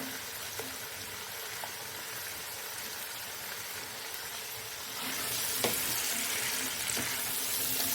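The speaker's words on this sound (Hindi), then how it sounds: "अब 2 मिनट में इसको भी ऐसे ही भून लूँगी" Mixed vegetables with potato and carrot frying in a pan for Chinese rice, a soft continuous sizzle and hiss that grows a little louder midway, with a few faint clinks; no talking.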